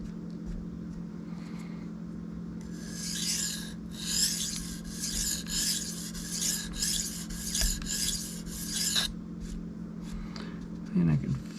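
A Cold Steel Mayhem knife sharpened on Sharpal 162N and Shapton Kuromaku stones, about a dozen rhythmic rasping strokes over a constant low hum, with a brief clatter at the end.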